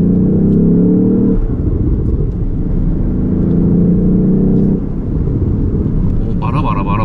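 Lexus LBX Morizo RR on a circuit in third gear, its electronically generated engine burble running as a steady, close rumble with gear-hold drone, while people talk over it throughout.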